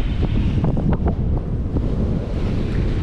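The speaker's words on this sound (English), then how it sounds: "Next squall." Squall wind roars into the microphone aboard a sailboat crossing the North Atlantic, with waves and surf washing beneath, a dense continuous buffeting with a few sharper gusts.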